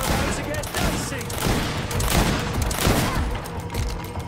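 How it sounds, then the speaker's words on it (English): Continuous loud volleys of 8-shot pistol gunfire in the video game GreedFall, dense overlapping shots filling the clip with little pause. "Gotta love them 8-shot pistols!"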